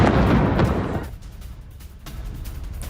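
Missile strike explosion at Ramat David air base in news footage: a heavy, loud booming roar at first that fades into a rumbling, crackling tail, with a few fainter pops afterward.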